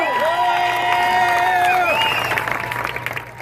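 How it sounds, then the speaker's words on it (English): A crowd at a charity walk event claps steadily and cheers, with high whistles and whoops rising over the applause for a few seconds before the noise thins out. "So would you give my team members a round of applause?"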